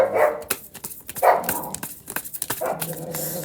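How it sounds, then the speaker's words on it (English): Several dogs barking outside, with repeated yips and barks plus a brief whimper, moderately loud and fairly close, overlapping in quick bursts. "I have dogs, yeah, outside."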